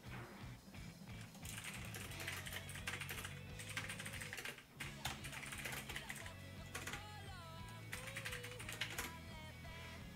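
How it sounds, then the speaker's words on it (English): Rapid, continuous keystrokes on a computer keyboard, a quiet clicking patter under background game music and occasional speech. "it's a lot on the keyboard that I'm typing an essay"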